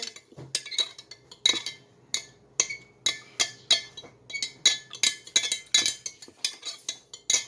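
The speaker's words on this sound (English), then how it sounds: "Stir it up a little bit to dissolve the sugar." A spoon stirring sugar into homemade ginger ale in a glass, giving a rhythmic series of bright, close clinks against the glass, with no talking.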